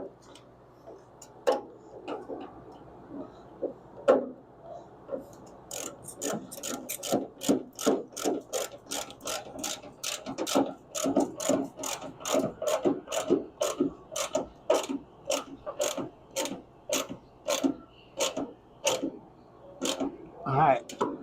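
A washer nut is tightened on the door seal of a 1967 Firebird/Camaro, giving a long run of regular, close ratcheting clicks that grow steadier and louder, with someone talking faintly at times.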